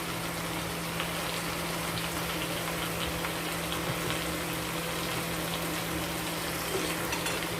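Chopped tomatoes and salt stirred in a hot frying pan, giving a steady close sizzle with faint scraping and stirring, no talking.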